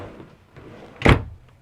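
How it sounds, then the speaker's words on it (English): A sliding closet door in a 2021 Grand Design Reflection 150 Series fifth-wheel RV rolls shut with a single short thud about a second in, nearby and fairly loud, set against a quiet interior. "You get another slider door here."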